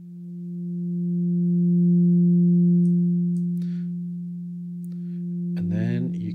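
A steady, pure FM synthesizer tone from Dexed drones for several seconds while parameters are changed, swelling and easing slightly, with faint clicks and a brief burst of buzzy modulation near the end.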